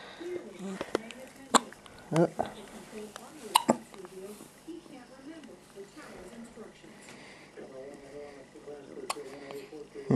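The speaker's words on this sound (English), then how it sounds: "Little hiccup monster." A baby hiccups several times at irregular intervals, each hiccup a short, sharp catch in the breath, close to the listener, while an adult talks softly between them.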